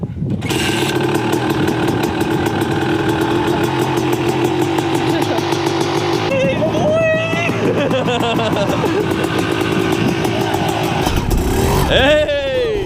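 Dirt bike engine running steadily nearby, a continuous buzzing drone with a few revs rising in pitch, with people talking over it.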